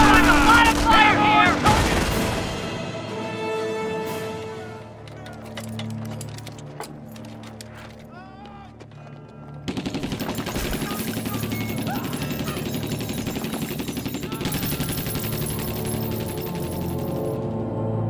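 Battlefield gunfire in Company of Heroes, machine-gun bursts and scattered shots crackling among clinking and clattering sounds, with voices talking over the fighting throughout.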